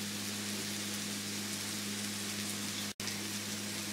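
Masala cauliflower stir fries in a pan, a steady close hiss of sizzling with a low background hum and a brief dropout near the end, no voices.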